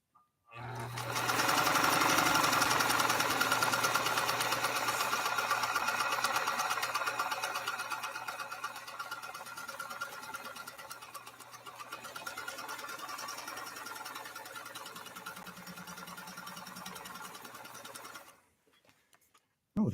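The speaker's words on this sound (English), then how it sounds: "We're going to try to sew a bat pattern now." An ebony Pfaff 230 sewing machine stitches a bat pattern, running continuously for about eighteen seconds with a fast mechanical whir and steady hum, then stopping abruptly.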